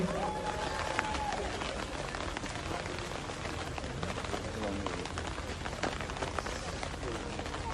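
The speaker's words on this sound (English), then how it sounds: "Let's get a round of applause for the Guyanese Girls Rock organization." Applause for the Guyanese Girls Rock organization at the Little Guyana Avenue street-naming ceremony: a dense, steady patter of clapping from an outdoor crowd lasting several seconds, with faint voices mixed in.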